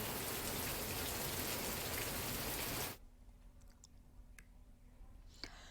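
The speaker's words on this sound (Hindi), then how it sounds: "आज सुबह तेज बारिश हुई।" Heavy morning rain pours down in Vikasnagar in Uttarakhand's Pachhwa Doon area as a dense, loud hiss for about three seconds, then cuts to a quiet background with a few scattered clicks.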